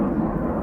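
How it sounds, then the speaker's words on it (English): A loud airplane passes overhead as a deep, steady rumbling roar, low and constant without breaks, heard alone with nobody speaking. "it's a really loud plane"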